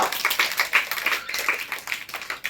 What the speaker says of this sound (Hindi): इस बच्चे के नाम पे सारे क्लैपिंग, एक बार तालियां।